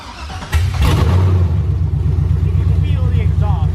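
A V8-swapped Toyota Cressida engine cranks and starts, then settles into a loud, steady, lumpy idle rumble close by, with people talking near the car.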